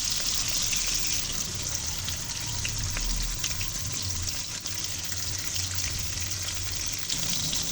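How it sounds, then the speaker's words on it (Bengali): Katla fish frying in hot oil in a pan, a loud, steady, dense sizzle that stays constant throughout with no pauses. "তারপর হচ্ছে অপর পাশটা ভালো করে ভেজে নেব।"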